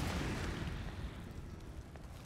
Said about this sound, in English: Incendiary grenade, do your thing